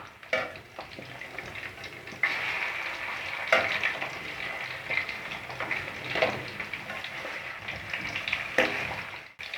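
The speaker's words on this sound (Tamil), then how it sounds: "சிக்கன் அடியில் ஃப்ரை ஆகிட்டுருக்கோம் இதை நம்ம திருப்பி விட்டுப்போம் அப்போ தான் மேல் பக்கமும் நல்லா ஃப்ரை ஆகும்" Chicken 65 pieces frying in hot oil, a steady close sizzle with bursts of crackle and occasional stirring or turning clinks, continuous throughout with no talk.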